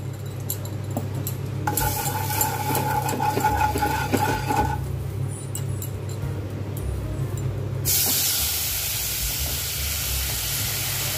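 Salt and turmeric sizzle in hot frying oil, a continuous close hiss and crackle that swells and shifts in texture over several seconds with no talking.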